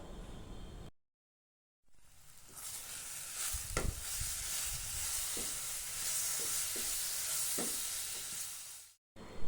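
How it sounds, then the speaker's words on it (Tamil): Ripe banana fries in ghee, giving a steady close hiss with a few soft knocks from stirring scattered through it; it cuts out briefly near the start and again at the very end, no talking. "நெய்யில் நல்லா ஃப்ரை ஆயாச்சு."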